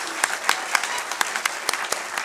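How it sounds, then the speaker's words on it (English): A crowd at a ukulele and harmonica camp applauds its performers, a thick bed of many hands clapping with a few loud, close claps standing out, continuous and even with no talking. "let's give a round of applause for all the performers we have gone before"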